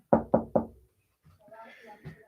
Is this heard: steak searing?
no